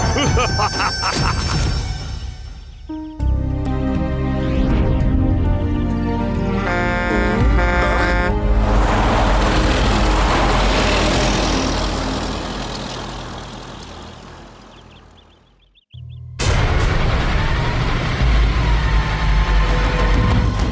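In an animated episode, lorries from different companies rumble past in a loud stream of heavy engine noise. Sustained horn blasts sound near the start and again at the end.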